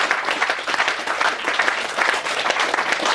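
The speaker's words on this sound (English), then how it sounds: "give them a big round of applause, please" Steady applause fills the room from the audience at a hypnotist's stage show, a continuous dense wash of clapping with no pause.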